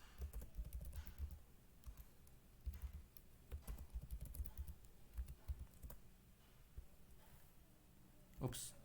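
Computer keyboard typing with quick irregular keystroke clicks, some bursts denser than others, while someone writes source code; a voice speaks faintly underneath.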